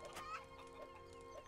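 Chickens clucking in the video game Gothic 3, a few short close-up clucks over a steady game ambience with faint talk in the background.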